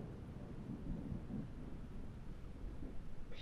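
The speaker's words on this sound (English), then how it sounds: "The storm is too much." A heavy thunderstorm with rolling thunder and steady rain, heard as a continuous deep rumble with broadband wash throughout, moderately loud and without talk.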